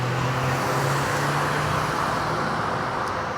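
Busy road traffic heard from a bicycle: a steady, continuous roar of passing cars and other vehicles, loud and close, with a low engine hum fading in the first half.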